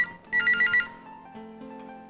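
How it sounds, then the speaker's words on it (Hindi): A telephone rings, first with a bright electronic trill and then a softer, lower repeating tone, close and clear against near silence. "यार सुबह सुबह फोन।"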